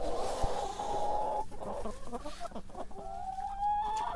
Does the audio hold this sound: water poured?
no